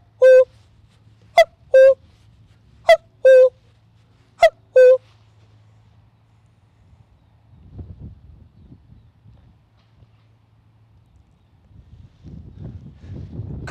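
Two-note cuckoo call whistled by a person in imitation, repeated three times, clear and close, then quiet with faint rustling and breezy noise.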